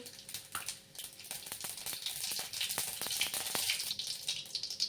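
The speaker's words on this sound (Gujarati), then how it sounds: "તેલ ગરમ થઈ ગયું છે તો હવે આપણે એમાં સૌપ્રથમ અડધી ચમચી રાઈ એડ કરીશું" Half a spoon of mustard seeds crackles and sizzles in hot oil in a cooker, a dense close hiss broken by sharp popping transients that build through the stretch, with no talking.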